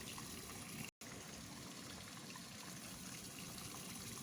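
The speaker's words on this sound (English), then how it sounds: "We turn off the water." Tap water runs steadily into a laboratory sink, a constant hiss and trickle filling the whole clip with one sudden brief dropout near the start.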